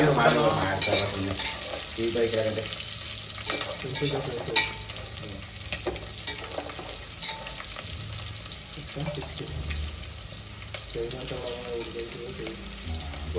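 Mixed vegetables for a vegetable pulao fry and are stirred in a pan, with a continuous crackling sizzle and scraping stir strokes, while faint voices talk in the background.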